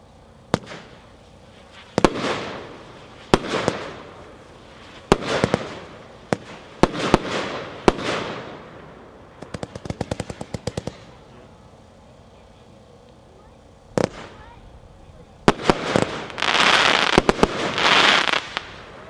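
Epic Force fireworks by Epic, a 27-shot consumer cake, fires a run of loud sharp bursts and crackling reports at irregular intervals, ending in a dense crackling finale.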